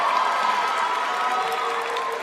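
A graduation ceremony crowd applauds and cheers for the student speaker Abel, dense continuous clapping at full strength throughout, broad and steady.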